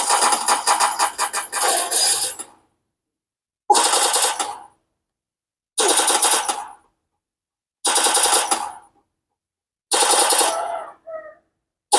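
Automatic gunfire in the Free Fire video game played on a small laptop comes in five loud, rapid bursts, each lasting one to two seconds and separated by short silences, with no talk over them.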